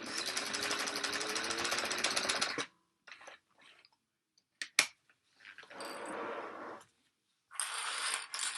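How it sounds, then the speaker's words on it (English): Sewing machine back stitching a tote circle closed: a loud steady whirring run, then quiet gaps with clicks and knocks, then two shorter bursts of stitching. "I'm going to back stitch my circle closed."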